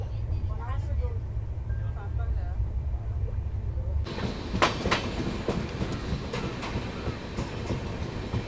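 A train pulls out of Katni South station, a low rumbling drone giving way abruptly to louder broadband rattling with clacking wheel beats, heard from inside the carriage with voices mixed in.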